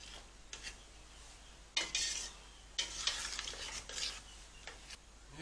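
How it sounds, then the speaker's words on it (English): New Zealand mussels simmering in sauce on a stovetop, with several faint bursts of stirring and scraping against the pot over a soft bubbling sizzle. "Okay, let our sauce boil."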